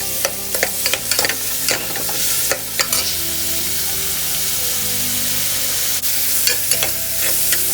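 Onions sautéing in a pan with curry leaves for a Tamil chicken soup, giving a steady loud sizzle and frying hiss with occasional stirring scrapes and spoon clinks, close up, with no talking.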